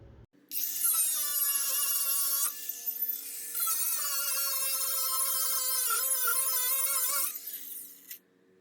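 A high-pitched grinding whine cuts in, pauses briefly, then resumes, wavering in pitch as the tool bites into material before winding down.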